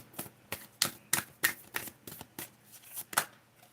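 Cards from an Affirmators self-help deck are shuffled, giving about a dozen crisp riffling bursts in an irregular rhythm, close and fairly quiet, with no voices.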